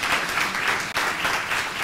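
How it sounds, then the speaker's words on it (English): Warm audience applause at a design talk, steady dense clapping from a crowd throughout, with one brief dip near the middle before it swells back. "warm applause for Samir, please"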